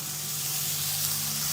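Chopped cabbage and capsicum fry in a hot pan, giving off a steady, loud sizzle and hiss that runs unbroken throughout, with no talking.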